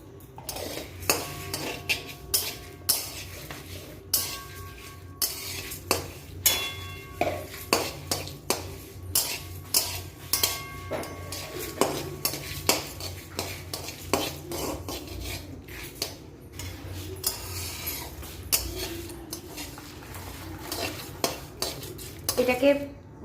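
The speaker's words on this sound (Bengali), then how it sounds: "জিরে দিচ্ছি আর ধনে। এটা শুকনো কলায় ভেজে তারপরে গুঁড়িয়ে রাখবো" Cumin and coriander seeds dry-roast in an oil-free pan, a utensil scraping and clinking against the metal in a long series of irregular strokes over a faint low hum, with no talk.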